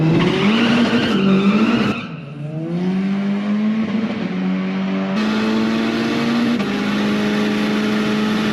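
A turbocharged FJ20ET-powered automatic Datsun 1600 on fat tyres launches down a quarter-mile drag strip, with loud screeching tire squeal and a roaring engine climbing through revs, close and intense.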